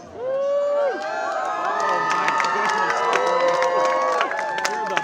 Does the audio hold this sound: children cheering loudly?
yes